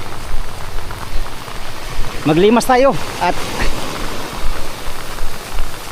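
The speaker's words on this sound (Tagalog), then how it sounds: "Grabing ulan. Lakas ng ulan." Heavy rain pours down on a small fishing boat at sea, a loud and steady wash of hiss that never lets up, while someone speaks briefly over it.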